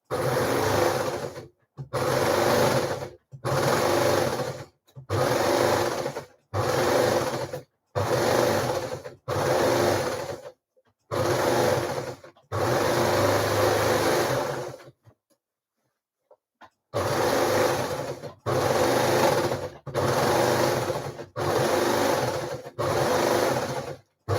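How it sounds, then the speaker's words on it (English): An overlocker sewing machine runs in a steady series of bursts while hemming a blouse, each run a few seconds of loud whirring, with one longer pause midway before the rhythm resumes. "cover your ears again while I overlock these hems"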